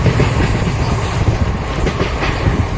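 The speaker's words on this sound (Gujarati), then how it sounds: "હવે આ દ્વારકાથી નીકળતી આપણી ટ્રેન" The Okha to Bhavnagar passenger train, no. 19210, rumbles steadily past salt works after Dwarka, with continuous low rolling noise and faint rhythmic clatter of wheels throughout, fairly loud and close.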